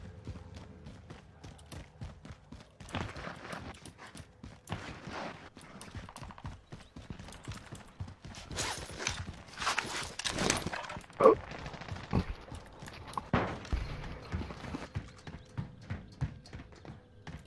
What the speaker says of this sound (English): Somebody's, I can hear the footsteps around me.